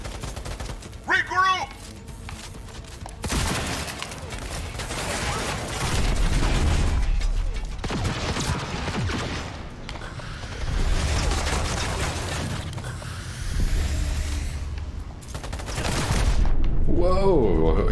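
Sustained automatic gunfire in the Cyberpunk 2077 video game, loud dense bursts of machine-gun fire with booms running for long stretches, broken by brief pauses.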